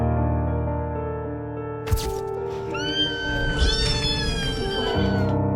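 Several high, thin kitten meows rise over a steady background hum, overlapping in short wavering cries after a brief sharp knock, fairly close.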